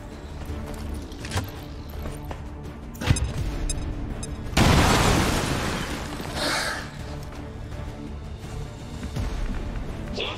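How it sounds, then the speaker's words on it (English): A grenade explosion and gunfire in the video game XCOM 2: a sharp crack around three seconds, then a loud broad blast that slowly decays, with scattered shots and game sounds around it. "Throwing grenade."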